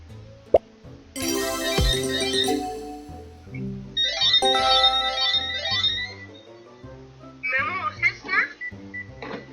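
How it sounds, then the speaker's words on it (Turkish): A telephone ringtone plays a bright electronic melody in several loud, close phrases with short gaps between them, after a single sharp pop at the start. "Telefon çaldı."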